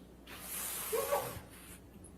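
One person sneezes in a single breathy, hissing burst of about a second, fairly faint over quiet background noise, followed by a brief louder sound at the very end.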